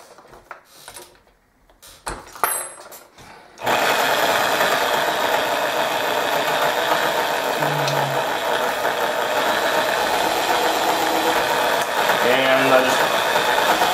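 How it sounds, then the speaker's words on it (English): A primer pocket cleaner scraper works on 5.7x28 brass cases during reloading prep, first as a few scattered clicks and scrapes, then as a continuous loud motorized whir that runs steadily to the end. "This is the primer pocket cleaner scraper."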